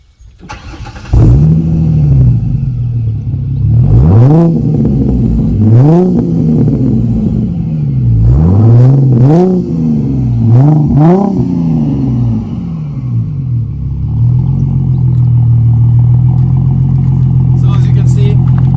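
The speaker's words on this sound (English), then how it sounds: "With the mufflers off, it's decently loud. It grumbles a little, especially on idle." A 2005–2009 Ford Mustang with the mufflers removed cranks and fires up loudly, blips through several rising-and-falling revs, then settles into a steady, grumbling idle, close to the microphone.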